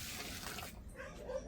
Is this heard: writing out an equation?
no